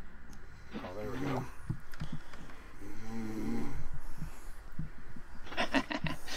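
A person snores in a rhythmic series of rasping breaths, close and fairly loud, with a brief burst of clicks near the end.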